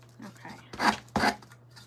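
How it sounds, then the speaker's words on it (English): Two short bursts of hand sanding, a rough scratchy rasp against wood, close by and separated by a brief pause. "I'm probably sanding some of this wood away"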